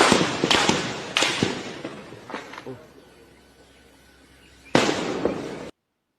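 Several sharp, loud bangs ring out in quick succession, then fade into quieter background noise before one more abrupt blast near the end.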